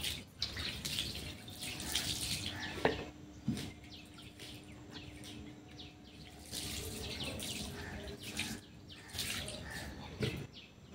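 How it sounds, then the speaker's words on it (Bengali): Soaked clothes are rinsed under running tap water, a continuous splashing gush with intermittent sloshes and clinks, close and moderately loud, with no voices. "এরপর আমি নর্মাল জল দিয়ে একটু ধুয়ে দিচ্ছি।"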